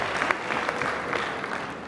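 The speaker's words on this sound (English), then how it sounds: "I think we clap for South Sudan." A short burst of audience clapping for South Sudan during a presentation, moderately loud and fairly sparse, with individual claps standing out in an uneven rhythm.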